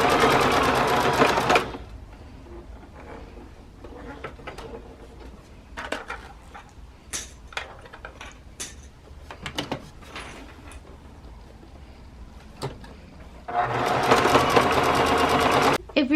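A sewing machine stitches an oven mitt, its loud steady whir running at the start and again near the end, with quieter clicks and handling sounds in between while a person talks.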